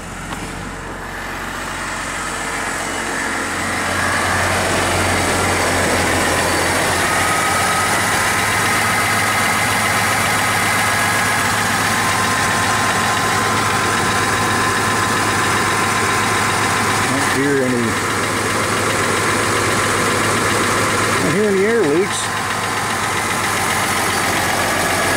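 A 2020 Duramax 3.0L diesel with an oil catch can kit fitted idles steadily with a subdued, even diesel clatter, close and continuous throughout, with only a couple of brief faint background sounds over it.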